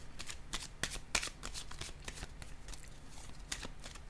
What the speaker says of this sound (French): je vais déposer une carte sur le monde à l'envers